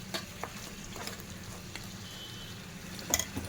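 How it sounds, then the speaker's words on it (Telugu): Ginger-garlic paste with chili powder stirred in a pan: a faint, steady sizzle with scattered soft scraping clicks and a slightly louder clatter near the end, no talking. "కారం వేసుకున్న తర్వాత ఒకసారి మళ్ళీ కలుపుకోవాలి"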